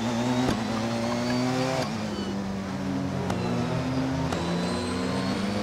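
Porsche 919 Hybrid race car from 2016 in Assetto Corsa, lapping Brands Hatch Indy: a steady, loud engine drone with harmonic whine, interrupted by a few sharp gear-shift cuts, with faint voice in the background.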